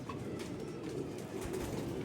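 A teddy pigeon coos softly and close by with low, muffled throaty tones, barely above a steady background hum.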